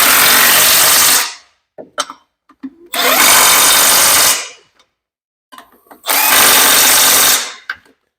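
Power ratchet tightening bolts on a Vauxhall Corsa B GSi clutch, three loud close whirring bursts of about a second and a half each, separated by quiet gaps with small clicks and clatter.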